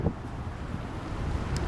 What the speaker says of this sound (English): Wind's starting to pick up now.